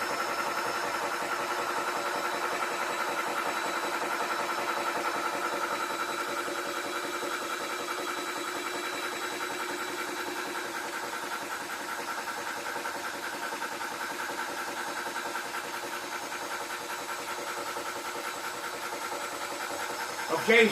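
A Tuxing 4500 psi PCP air gun compressor runs at a ranch, giving a steady, close mechanical hum with a fast buzzing pulse that holds evenly for about twenty seconds.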